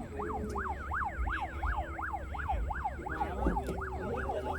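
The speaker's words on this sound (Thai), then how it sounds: "ผมได้ยินเสียงรถกู้ภัยอยู่ตรงนี้นะครับ" A wailing rescue vehicle siren rises and falls in a steady, rapid cycle over rumbling traffic noise at a boat racing accident scene, fairly close and continuous throughout.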